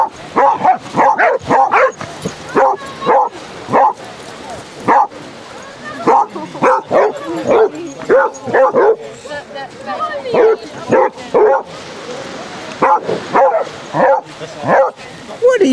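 Many basset hounds bark and yip repeatedly on a beach at Exmouth, loud and close, with bursts throughout and people talking in between.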